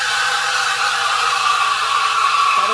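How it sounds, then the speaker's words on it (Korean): An espresso machine's steam wand sits submerged in milk, heating it without frothing, giving off a loud, steady hissing roar that holds close and unbroken throughout. "이렇게 거품은 안 나는데 데워는 지는데 이렇게 소음이 너무 시끄러워요"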